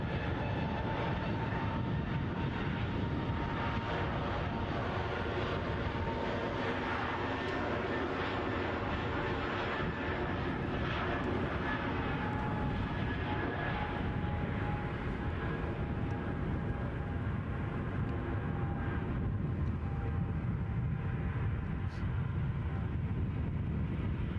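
An Edelweiss airliner on approach to Edinburgh airport makes a continuous broad engine roar with a steady whine, holding at an even, moderately distant level throughout.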